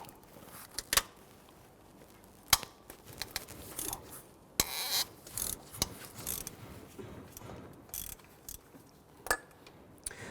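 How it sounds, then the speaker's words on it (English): A ratchet with a 12mm socket on an extension breaking loose AC compressor bolts on a 2006-2012 Toyota RAV4 3.5L V6, giving sharp clicks and clunks scattered irregularly through a quiet background. "Using our 12mm socket, extension, and ratchet, let's go ahead and loosen these."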